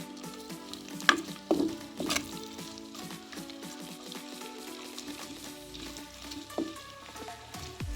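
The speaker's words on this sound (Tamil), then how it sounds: "ஒரு அஞ்சு நிமிஷம் வதங்கவும்" Chopped onions sauté in oil in a traditional clay pot for fenugreek kuzhambu, with a soft, continuous sizzle broken by a few louder clatters of stirring.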